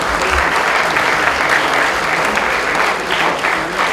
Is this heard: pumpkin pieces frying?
no